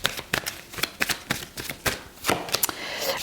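Tarot cards being shuffled by hand: a rapid run of crisp, close riffling flicks and slaps in quick bursts, loud and alone without speech.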